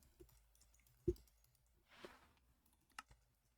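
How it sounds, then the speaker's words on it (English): Keys clack on a computer keyboard during a session of the Minecraft modpack GregTech: New Horizons. A few sparse, quiet clicks stand out sharply against near silence. "My typing skills today are at an all-time low."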